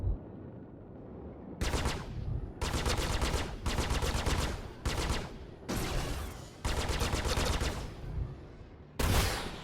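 Rocket pods on a spaceship firing in Star Citizen during a Vanduul swarm fight, loud sustained rapid bursts of about one second each, repeated with short gaps.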